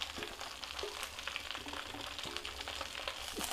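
Curry leaves frying in a pan for pickle, a quiet continuous sizzle and crackle with light stirring scrapes, close and alone.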